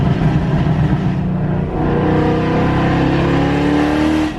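A Ford Mustang GT with a Coyote 5.0 V8 swap and aftermarket exhaust accelerates hard, a loud, close, deep engine roar climbing steadily in pitch with a brief dip as it shifts.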